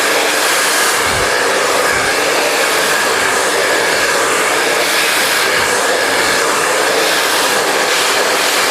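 A loud hair dryer blows continuously while hair is blow-dried section by section with a round brush for a razor or feather cut, a steady close roar throughout with no talk.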